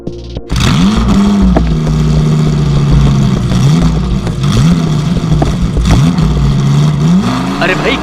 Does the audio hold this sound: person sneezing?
no